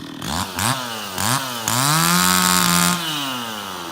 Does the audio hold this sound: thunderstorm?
no